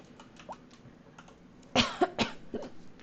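A person's cough followed by a hiccup, a few short sharp bursts at close range after a quiet stretch with faint taps.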